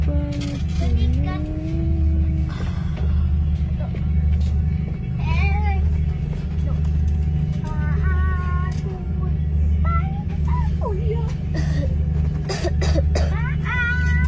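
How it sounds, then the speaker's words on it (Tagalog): Several coughs, including a throat clear, come through a steady low ship engine rumble with some voices. "Yan, may mga ubo, may mga sipon."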